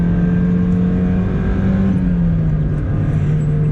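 1999 Mazda Miata NB at full throttle, its engine droning loud and steady from inside the cabin with a sustained, slightly falling hum.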